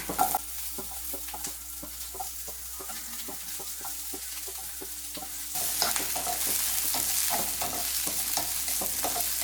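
Onion and ginger sautéing in a pan for chicken fry, a soft steady sizzle with scraping stir strokes, growing noticeably louder and brighter partway through, no voices.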